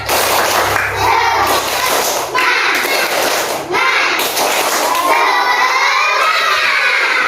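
Primary-school children in a classroom clap a rhythmic spirit cheer together, loud patterned handclaps mixed with their shouted chanting, close and energetic throughout, with short breaks between phrases.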